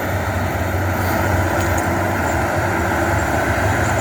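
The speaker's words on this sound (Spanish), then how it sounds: "Es un tractor, bueno, como un tractor grande" A large tractor's heavy engine drones steadily with a deep, constant rumble, loud and continuous throughout, with no voices.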